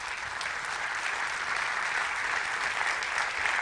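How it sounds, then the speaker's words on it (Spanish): A church congregation claps for God during a Spanish-language sermon about miracles: a steady, dense roar of applause throughout, close and loud with no talking. "Denle un aplauso a Dios."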